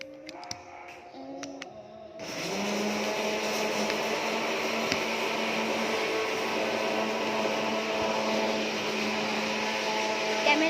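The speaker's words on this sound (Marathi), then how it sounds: "मिक्सरचा आवाज होता, मग मी मिक्सर लावते" A kitchen mixer grinder starts after brief quiet household sounds and runs continuously with a loud, steady motor whine and grinding roar, close to the listener.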